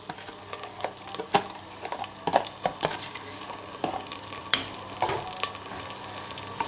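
Onions fry in hot oil in a pan, crackling and popping with scattered sharp spits over a steady low sizzle, close by and fairly quiet.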